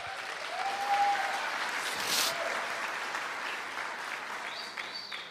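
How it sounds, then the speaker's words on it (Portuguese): A church congregation applauds after a sermon, producing a steady, moderately distant wash of clapping that lasts several seconds with a faint whistle or cheer near the start. "Uma salva de palmas."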